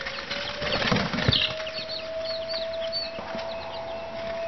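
Young molting chickens at an off-grid homestead, with close clucks and a brief burst of fluttering wings near the start, followed by softer scattered chirps over a steady background hum.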